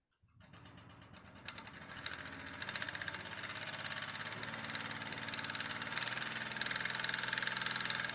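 A wood lathe spins steadily at around 1,200 RPM while turning a hollow form, giving a continuous mechanical whir with faint rattling that grows slightly louder as the tool cuts, with no talking over it.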